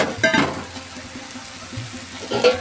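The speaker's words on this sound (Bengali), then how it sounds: "এখন আমি এখানে পটল আলু আর চিংড়ি মাছটাও দিয়ে দিচ্ছি আর একটু আমি ধুয়ে জল দেব" Water splashing into a pan of pointed gourd, potatoes and prawns, a short pouring burst, a quiet bubbling simmer, then another brief splash at the end.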